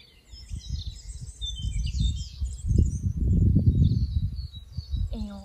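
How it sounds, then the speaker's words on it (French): Birds sing and chirp outdoors in bright, scattered high calls throughout, heard over a steady low rumble of wind or traffic that swells in the middle. "on écoute les oiseaux."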